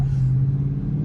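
Dodge Charger engine running in first gear, a steady close rumble holding one low tone for about a second, with no talking over it.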